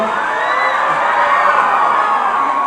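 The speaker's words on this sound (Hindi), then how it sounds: "तालियां बजाइए।" Audience at an awards ceremony in Hyderabad cheering and applauding, a loud, close crowd roar with whoops and shouts sustained evenly throughout.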